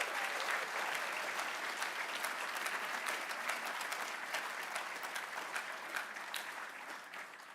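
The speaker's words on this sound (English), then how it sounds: "Can we give them one more round of applause?" Award recipients are cheered with sustained applause from a ceremony audience at a cultural diversity awards, dense even clapping that holds steady for several seconds, then slightly softens.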